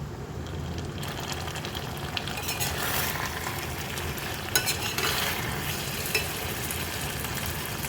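Paneer cooked in ghee being stirred in a pan, a continuous sizzle with scraping utensil strokes and a few light clinks, close and moderately loud, no voices.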